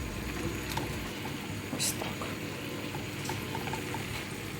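Steady sizzling and bubbling of sausages frying in a pan, a soft continuous crackle with a few faint clicks, no talking.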